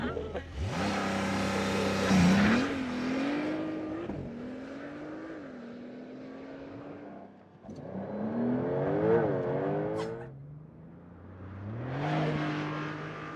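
A Porsche 911 Turbo S T-hybrid launches hard under launch control, its engine rising through several loud upshifts in a rising-and-dropping pattern, with a brief lull before pulling again.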